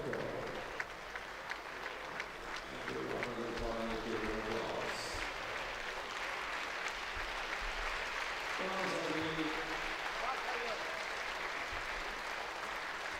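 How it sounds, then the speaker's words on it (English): At the 2017 World Games men's heavyweight powerlifting, a crowd claps and cheers steadily throughout, loud and continuous, with commentators talking over it. "People are standing up cheering him on."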